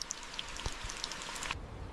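Rain falls in a forest on Kodiak Island, scattered drops tapping on surfaces with a soft hiss behind them.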